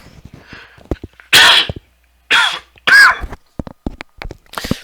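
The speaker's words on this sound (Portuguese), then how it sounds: "a garganta começa a secar. Aí eu começo a tossir." A few sharp, loud bursts of coughing close by from a person with a dry throat, separated by quieter pauses and soft rustling.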